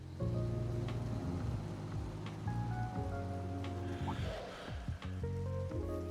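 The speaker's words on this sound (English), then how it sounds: "the rain was coming down even more heavily" Heavy rain pours in the Trails video game, a steady dense wash under a loud, sustained music track with layered tones that dominates throughout.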